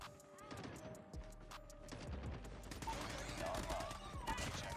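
Rapid automatic fire from an M4LMG light machine gun in Call of Duty Mobile, a dense sustained burst of shots with game effects layered over it, while someone speaks throughout.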